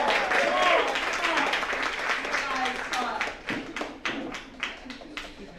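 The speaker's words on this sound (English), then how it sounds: "Give yourselves a round of applause for me." Audience at an outdoor fashion show clapping together, a steady dense applause that thins into scattered individual claps toward the end, with a voice speaking over the start.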